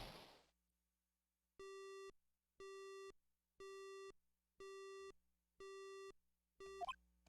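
A phone busy signal in a video game after a cell phone breaks: six evenly spaced electronic beeps in a steady rhythm, clear and alone, with a brief noise at the start and end.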